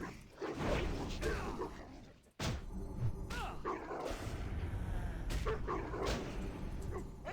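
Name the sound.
growling, barking dog enemy in World of Warcraft video game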